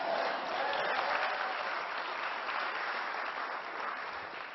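Steady, dense applause from an audience at the Illinois governor's FY 2021 budget address before the General Assembly, continuous and fairly even throughout with no distinct talk over it.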